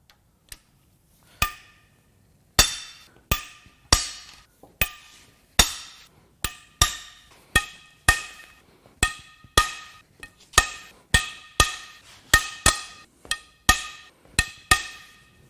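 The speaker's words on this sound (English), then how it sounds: "It is finally time to crack the head bolts loose." Sharp metallic cracks of head bolts breaking loose on a BMW N54 twin-turbo engine during a teardown, about twenty distinct loud snaps in an uneven rhythm, each with a brief ringing decay, alone with no talk.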